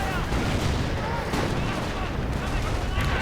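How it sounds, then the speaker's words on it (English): Mortar rounds and artillery shells pound a World War II battlefield in the Company of Heroes strategy game, with dense overlapping booms and gunfire rumbling continuously and loudly for the whole stretch. "Some mortar rounds doing a bit of nice damage there."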